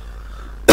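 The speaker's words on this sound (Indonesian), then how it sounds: "Sorry batuk ya." A single loud, harsh cough from a man bursts in suddenly near the end after a quiet stretch of low background hum, very close to the microphone.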